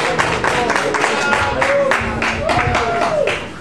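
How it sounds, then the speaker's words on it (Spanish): An audience at a blogging event in Arequipa breaks into brisk, close applause that fills the moment alongside some voices, then fades slightly at the end. "Un aplauso."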